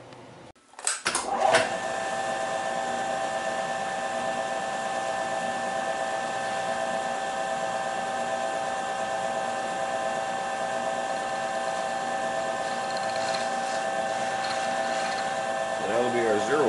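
A milling machine cuts a slot with a 3/8 inch end mill, a steady whirring hum with faint tonal whine that holds evenly for about fifteen seconds after a brief clatter at the start.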